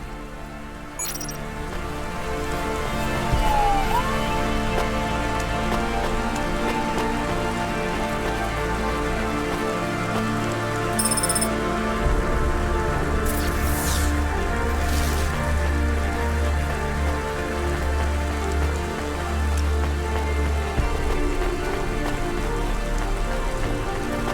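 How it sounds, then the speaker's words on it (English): Steady rain falling in the video game Cloudpunk, a dense continuous patter on surfaces throughout, with low ambient hum and brief faint game effects, no talking. "Don't let all the rain get you down."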